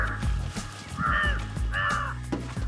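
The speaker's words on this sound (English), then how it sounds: "Like crows!" Crows caw loudly and close, harsh calls repeating in short bursts about every second, standing alone with no talk.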